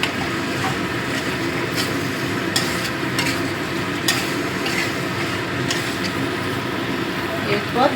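Peas being stirred into a pan of bhetki fish head and bones cooking for cabbage ghonto, a steady scraping stir over a continuous sizzle with sharp clinks, close and fairly loud with no voice.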